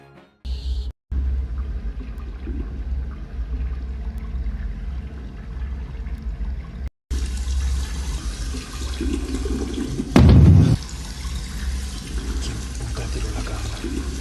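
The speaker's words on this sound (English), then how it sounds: "a suspicious sound from the direction of the bathroom, as if someone was using the toilet" Running water and a toilet flush in a bathroom, with a continuous watery rush broken by two brief cuts and a louder surge near the end.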